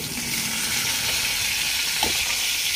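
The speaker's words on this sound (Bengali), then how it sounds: "মাছ ভাজাটা হয়ে এসছে, মাছ ভাজাটা তুলে নিচ্ছি।" Steady, loud sizzling of fish frying in oil, a continuous close hiss with no talking.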